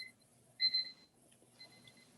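Two short electronic beeps from a smoke alarm, a brief high tone followed a second later by a fainter one, over a quiet background.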